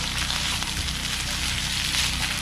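Garlic and shrimp fat stir-frying in a wok during a power cut, a steady, dense sizzle and crackle filling the whole stretch with no pauses, close and fairly loud, with no talk over it.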